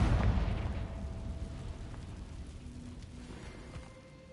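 In Hogwarts Legacy, a Confringo explosive spell goes off with a single booming blast. The boom decays into a fading rumble, and a few faint crackles and pops follow.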